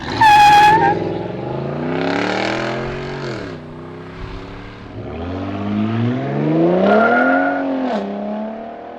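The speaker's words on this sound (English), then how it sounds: "This V8 is still king." A 2010 Ford F-150 Raptor's deep V8 engine revs repeatedly nearby, its rumbling pitch swooping up and dropping back in several loud blips.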